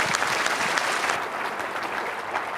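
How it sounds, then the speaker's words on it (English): Applause for a woman participant in a training session, steady clapping from a room of people lasting the whole moment, loud and close, with no talking over it. "Give her a big round of applause"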